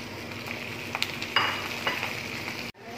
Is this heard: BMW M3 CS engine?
no